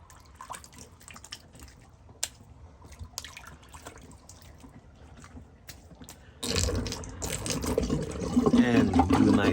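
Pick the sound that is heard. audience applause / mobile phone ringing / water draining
water draining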